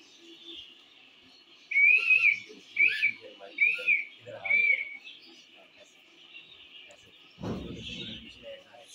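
Shrill whistle from a traffic-directing whistle man, four sharp separate blasts in a steady rhythm, loud and close, followed by a thump and low background voices.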